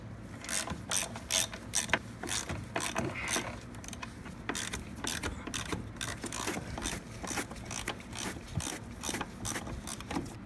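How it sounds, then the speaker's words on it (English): A hand ratchet clicks steadily while backing out the 3/8 bolts on the chain case cover of a Polaris Ultra 680 snowmobile, with rapid, evenly repeating pawl ticks up close and a low mechanical rumble beneath. "this is just held on by 4 3/8 bolts. So let's go ahead and pop those off"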